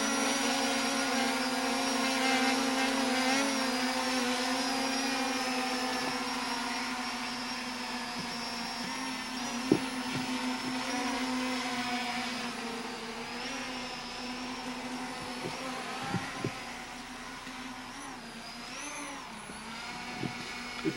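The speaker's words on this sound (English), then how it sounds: "Okay, let's take it for a little flight." Ameta S20 Lite beginner drone in flight, a thin steady whine with a faint buzz that wavers slightly in pitch as it moves, fairly quiet, with a few small knocks and no talk.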